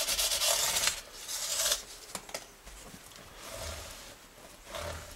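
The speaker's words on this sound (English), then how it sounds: "polishing the ends of the fretboard, rounding them over a little bit at the same time, and the edges of the frets" Cloth rubbing briskly over the rosewood fretboard ends and fret edges of a Fender American Telecaster, a close, scratchy swishing in several strokes with short pauses between.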